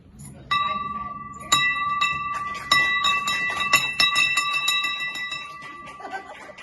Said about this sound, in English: she got to ring the bell